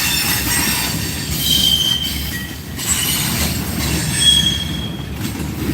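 A train running through the French Quarter of New Orleans, its wheels squealing in high, sustained tones over a loud, steady rolling rumble close by, with no talking.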